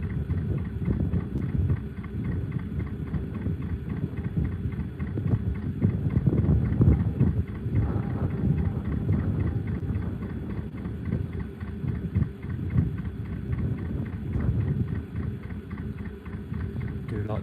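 A narrowboat's engine, known as Old Smoky, runs with a steady low chugging rumble and rhythmic knocking, close and continuous with some wind buffeting.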